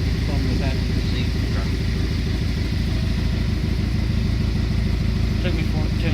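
A 2017 Camaro's 2.0-liter turbocharged four-cylinder runs with the hood up, a loud, steady engine drone with an uneven, pulsing roughness from a bad misfire on a dead cylinder, heard close to the engine bay.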